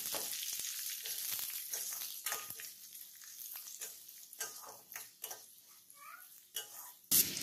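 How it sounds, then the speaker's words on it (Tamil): Onions sautéing with green chili in a pan for carrot rice, giving a gentle irregular sizzle broken by repeated spatula scrapes and stirring knocks, with a louder clatter at the very end. "வெங்காயம் நல்லா வதக்கலாம்."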